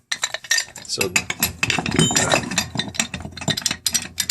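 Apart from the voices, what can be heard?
two wrenches tightening a brass radiator steam valve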